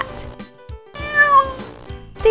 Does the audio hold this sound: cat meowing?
yes